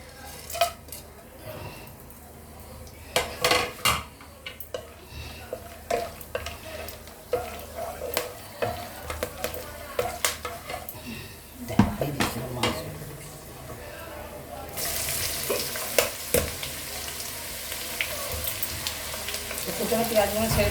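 Sliced onions frying in a pan with whole spices for a mutton masala curry, sizzling steadily while a spoon stirs and scrapes against the metal in repeated clinks; a voice speaks over the cooking.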